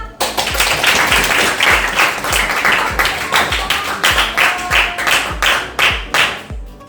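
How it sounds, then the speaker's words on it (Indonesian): A school class applauding together after a presentation, a burst of many hands clapping at close range that swells and settles into an uneven rhythmic patter of claps. "Kita kasih aplaus dulu ya."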